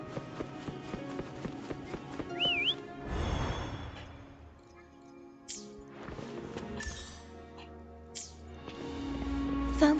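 In a video game, a player character gives one short, wavering whistle to call a horse. Hoofbeats and clattering steps follow over the game's ambient sound.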